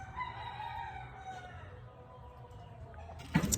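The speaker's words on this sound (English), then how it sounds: "Excuse the roosters, my neighbor has farm animals." A rooster crows once in the distance near the end, a short faint call over quiet background hiss.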